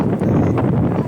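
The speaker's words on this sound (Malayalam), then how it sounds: "അത്രക്കും വലിയ കാറ്റ്." Strong wind at a beach in Dhanushkodi, near the India–Sri Lanka border, buffeting the microphone in a steady, loud, dense roar with no talk.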